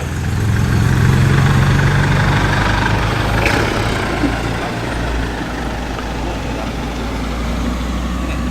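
A Land Rover engine idles at a classic car show with a steady low rumble nearby, a faint clatter rising briefly before it settles back into an even hum.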